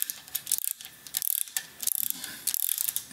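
Ratchet wrench turning out the original bolts on an air-cooled VW Beetle engine during reassembly, giving four quick bursts of dense, close clicking separated by short pauses, with no talk.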